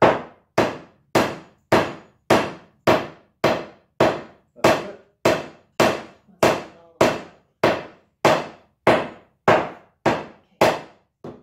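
A hammer pounds steadily, about eighteen sharp, evenly spaced blows ringing out one after another at close range.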